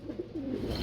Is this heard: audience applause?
no